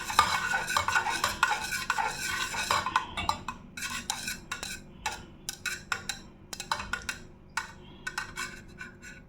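Melted candle wax being stirred and mixed in a container while making wax sachets, a busy run of quick scraping, clinking strokes, loud at first and then coming as repeated short scrapes, with no talking.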